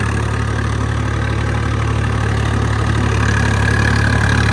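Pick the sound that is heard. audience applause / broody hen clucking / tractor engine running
tractor engine running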